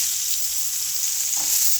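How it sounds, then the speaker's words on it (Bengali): Pointed gourd (potol) coated with salt, turmeric and chili frying in oil, a steady close hiss of sizzling with a soft bump of movement near the end, no voices. "দিয়ে আমি এখানে পটলটা ভাজার জন্য দিয়ে দিই।"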